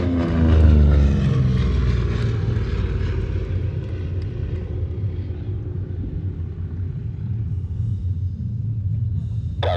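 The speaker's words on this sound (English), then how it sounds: "Here comes the A-26 again." A-26 twin-propeller aircraft making a pass at an airshow, a loud droning engine roar that falls in pitch as it goes by and fades into a lingering rumble.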